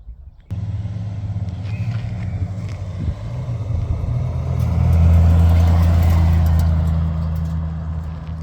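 A Ford F100 truck's V8-style engine rumbles steadily on a test drive, starting abruptly, then swelling into a louder, deeper drone midway before easing slightly, with no talking over it.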